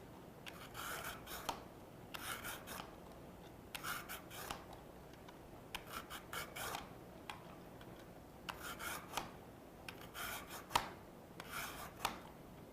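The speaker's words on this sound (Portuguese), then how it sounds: "vou cortar com o descascador mágico, que é muito melhor" Fresh carrot, washed and peeled, shredded into thin strands on a spiral peeler, giving repeated short rasping scrapes in bursts of roughly a second, close and fairly quiet, with no voices.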